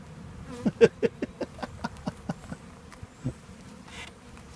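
Bees buzz around an open hive as frames and an inner cover are set in place, a faint, close hum broken by a run of soft knocks and taps.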